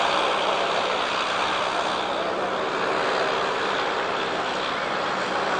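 An aircraft performing a flying display at the Yeovil airshow in 1996, a loud continuous broadband engine roar that holds steady throughout without breaks.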